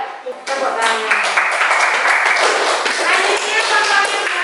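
Classroom audience applause during an Indonesian school teaching session, many hands clapping together in a steady, bright patter that starts abruptly and holds fairly loud for about four seconds.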